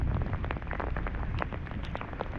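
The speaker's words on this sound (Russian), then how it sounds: "А дождь идет, не переставая, уже, наверное, около часа." Steady rain falls continuously during a thunderstorm at a fishing spot, a dense close hiss of drops with scattered sharper patters and no voices.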